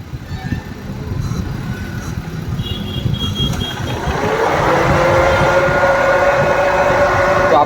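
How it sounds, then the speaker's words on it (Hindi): A WagonR's radiator fan runs with the AC on while the engine idles: a steady, loud whirring roar with a droning hum swells in halfway through and holds, near and continuous, after a stretch of engine noise and faint voices. "यहाँ पे जैसे एसी ऑन होता है तो ये रेडिएटर का फैन में से बहुत सारा नॉइस आ रहा है।"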